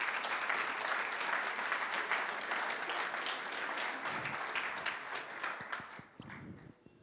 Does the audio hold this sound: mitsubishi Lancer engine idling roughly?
no